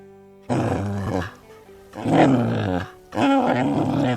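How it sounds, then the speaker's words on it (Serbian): An angry dog growls and snarls in three loud, harsh bursts separated by short pauses, close and deep-throated with no other voices. "A ovako se čuje kada je ljut i kada reže."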